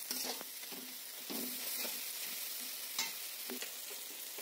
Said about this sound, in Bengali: তো এভাবে কষিয়ে মশলাটাকে বেশ সুন্দর করে রেডি করে নিলাম